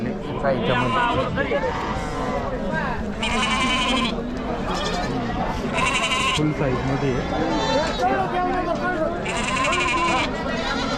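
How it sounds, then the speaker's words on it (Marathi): Sheep bleat repeatedly amid a busy crowd at a large sheep and goat market in Chakan, Maharashtra, with someone talking over the noisy market babble throughout. "मेंढ्या पाहू शकाल एकदम क्वालिटीमध्ये"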